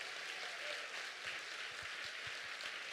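A congregation applauds in a church, a steady, fairly distant wash of clapping with soft low thumps beneath it and no clear break.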